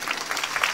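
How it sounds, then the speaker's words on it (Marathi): Kirtan audience applauding, a dense wash of hand claps filling a short burst at steady moderate loudness, with no voice above it. "टाळ्या वाजवा ना जोरदार"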